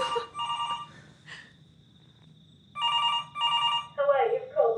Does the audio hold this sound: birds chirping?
no